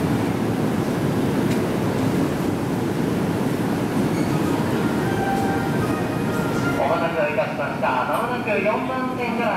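A JR 313 series Shinkaisoku rapid train rolls out of Nagoya Station on the Tokaido Line, a continuous rumble of wheels and motors under a platform announcement, with a faint squeal toward the end.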